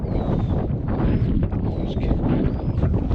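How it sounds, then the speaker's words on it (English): Strong wind buffets an exposed hilltop after a thunderstorm, a loud, continuous low rumble of gusts battering the microphone, with faint thin whistling tones above it and no voices. "A bit windy still, but not too bad."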